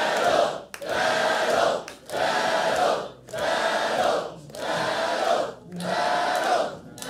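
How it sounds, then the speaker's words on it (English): A comedy club audience at a roast battle chants "Battle!" in unison, six loud rhythmic shouts about a second apart with short gaps between, a full crowd roaring together. "Folks, let's start the chant. Battle! Battle!"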